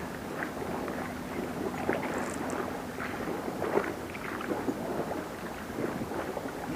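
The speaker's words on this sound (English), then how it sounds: "this wind isn't helping" Wind blows outdoors by the water during a fishing session, with a low rumbling buffet against the microphone and scattered light rustles and knocks, steady throughout.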